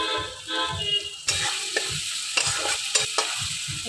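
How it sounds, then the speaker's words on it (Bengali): Boiled garlic and onions frying in oil in a pan, a loud close sizzle that swells midway, with repeated spatula scrapes and taps as they are stirred, no voices. "একটু লাল লাল করে ভাজাটা হোক"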